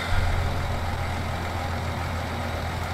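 A video game tractor engine drones steadily at idle with a low rumble, continuous and fairly loud throughout, no voices.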